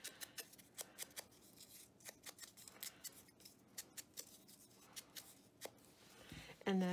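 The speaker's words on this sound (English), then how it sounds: "You can just clip them with your scissors." Scissors snip away paper chads while a rustic shaker card folio is assembled, with quick repeated crisp clips in an uneven rhythm, faint and close, and a brief louder knock at the end.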